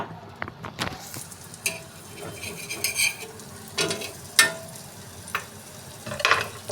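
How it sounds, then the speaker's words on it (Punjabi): Besan-coated bread sandwich frying in butter on a tawa over a medium flame, with a steady soft sizzle broken by sharp crackles and scraping stirs. "ਤੇ ਤਵੇ ਤੇ ਪਾ ਦੇਣਾ ਹੈ ਫਲੇਮ ਤੁਸੀਂ ਮੀਡੀਅਮ ਰੱਖਣੀ ਹੈ"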